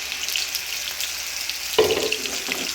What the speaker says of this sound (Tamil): ஆட் பண்ணிட்டு அரைச்சி வச்சுருக்க பேஸ்ட்டை இதில் ஊற்றிடுவோம்.